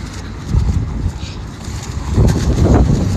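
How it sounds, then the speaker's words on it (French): Gusty wind buffets the microphone outdoors on the Champs-Élysées, a steady low rumble that swells louder toward the end, with no voices. "Il y a un peu de vent."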